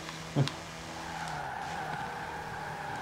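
Racing cars, including two orange Vauxhalls, run in Forza Horizon 4 with engines droning steadily and a brief tire squeal near the start, loud and close, no talk.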